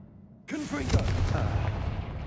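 A Confringo blast spell goes off in Hogwarts Legacy, a sudden loud boom followed by a rumbling, crackling explosion tail, with a voice calling out over it.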